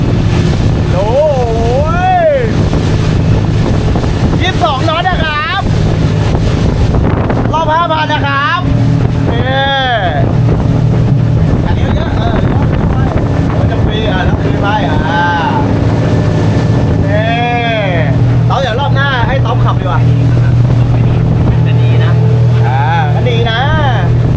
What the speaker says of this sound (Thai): เรือ 60 แรงนะทุกคน